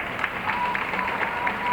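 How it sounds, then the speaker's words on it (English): Crowd at a high school wrestling match giving applause, a brief wash of clapping and murmuring voices heard from a distance in a gym. "Got some applause from the crowd here"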